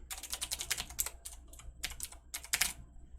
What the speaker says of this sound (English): Oops, I'm typing quickly